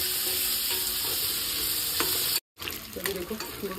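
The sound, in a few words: Bombil fish frying and sizzling in a pan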